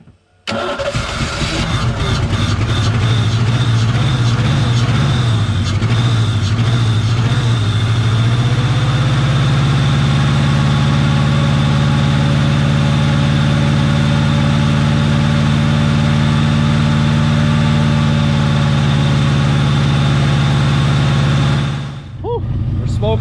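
A 1988 Ford Mustang's 5-liter V8 cranks, catches and settles into a loud, steady idle, a continuous near rumble that runs unbroken for about twenty seconds before cutting off.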